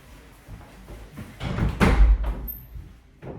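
A child shuts a door at home, giving one close, heavy thud after some shuffling, with soft household movement before and after.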